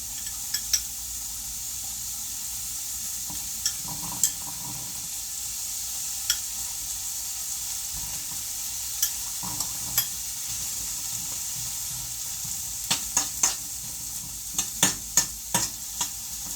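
Sausage sizzling steadily in a frying pan, a constant hiss with occasional small pops and clicks of stirring, heard close with no talk over it.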